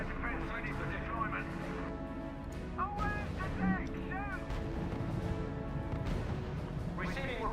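Artillery and small-arms fire in the World War II strategy game RUSE, distant booms and scattered shots layered under a music bed, while voices talk over the battle.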